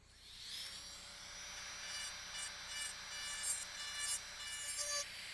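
A rotary tool fitted with a fine diamond bit smooths carved feather earrings, producing a steady, high-pitched whine that holds close and even for several seconds with slight rises in pitch and load.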